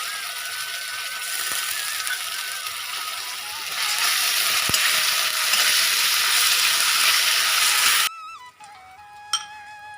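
Garlic and ginger paste fries in a pan for Bengali jackfruit and potato danla, a steady close sizzle that swells louder midway, then cuts off abruptly near the end, leaving faint clinks and quiet kitchen sounds.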